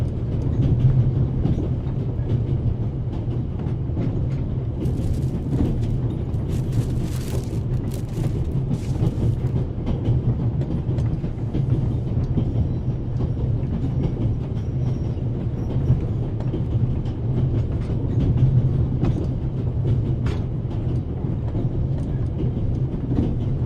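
Inside a passenger train on the Orient Express, a steady low rumble of wheels on rails rolls on throughout, with occasional faint rattles and clicks over the continuous drone, no talking.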